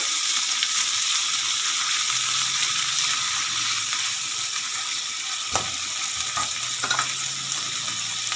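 Mixed vegetables cooking in a pan with tomato puree and chili garlic sauce for Turkish kebabs, a steady close sizzle with a few sharp spoon scrapes and clicks near the end, no voices.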